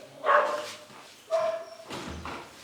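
A female dog barks indoors during a lesson, giving two sharp, fairly loud barks about a second apart followed by a softer whining yelp.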